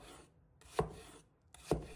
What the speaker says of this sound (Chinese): 接着将它切成薄片，切太薄则容易在炒制过程中软烂